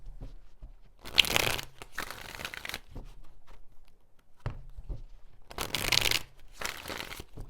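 Two bursts of riffle-shuffling tarot cards, each a quick crisp flutter lasting about a second and a half, separated by a few seconds of quiet handling.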